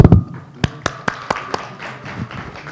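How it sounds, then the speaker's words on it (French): A few scattered hand claps at a municipal council meeting for a newly appointed deputy mayor, sparse single claps spaced out over a couple of seconds in a quiet room. "On peut l'applaudir."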